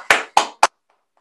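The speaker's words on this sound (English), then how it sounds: "Big round of applause for Ali." Three sharp, close hand claps in quick succession, then near silence.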